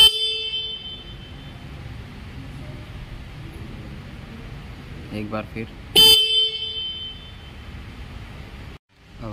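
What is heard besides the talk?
Suzuki Gixxer 150 motorcycle single horn honking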